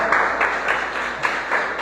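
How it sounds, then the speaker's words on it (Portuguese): Church congregation applauding to welcome a new member during a worship service, a steady wash of many hands clapping with slight swells, fairly close and continuous, with no talk over it. "Vamos recebê-la com alegria, aplaudindo o Senhor, amém?"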